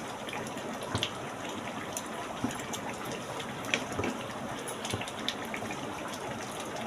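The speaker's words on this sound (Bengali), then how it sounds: "কাজু কাঠিটা একটু ধুয়ে দিলাম।" Water runs softly and steadily in a home kitchen while a cashew-nut skewer is rinsed during chicken rezala cooking, with faint scattered clinks and splashes and no talking.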